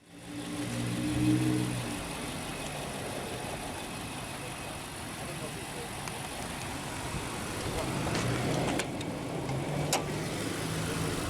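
A 2018 Nissan Armada Platinum 4WD with a 5.6-liter naturally aspirated V8 and aluminum block idles with a steady, even low rumble that continues throughout at moderate level.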